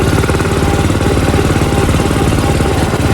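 A Blue Horse 63 tractor fitted with a turbo runs close by, its engine giving a loud, steady, rhythmic chugging drone with no pauses.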